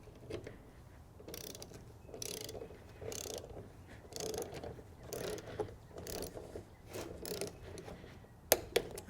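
A socket wrench ratcheting as it torques intake manifold bolts on a GM Vortec V8 truck engine: repeated short bursts of quick clicking, close but quiet, with a couple of sharper metallic taps near the end.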